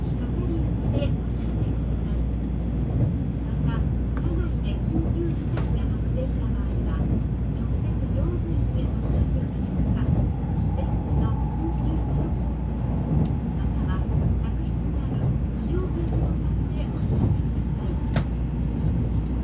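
Shinkansen Nozomi bullet train heard from a window seat inside as it departs and rides toward Osaka, a steady low rumble and hum of the carriage with faint mechanical ticks throughout, no talk.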